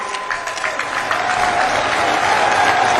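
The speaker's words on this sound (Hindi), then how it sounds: "अपनी तालियों के प्रणाम आप मंच तक पहुंचाएं" Crowd applause welcoming the Prime Minister at a public event in India, a broad wash of many people clapping that swells and holds loud and steady, with a faint tone beneath.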